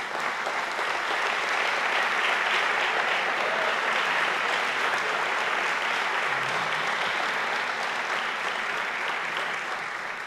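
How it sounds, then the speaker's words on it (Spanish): A church congregation at a Sunday evening service breaks into strong applause, a dense, sustained roar of clapping from a large crowd that holds steady for about ten seconds before easing slightly at the end. "Dale un fuerte aplauso"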